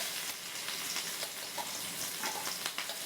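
Pepper, cumin, green chili and ginger fry in ghee for rava pongal, giving a steady, close, dense sizzle that carries on evenly throughout with no voices.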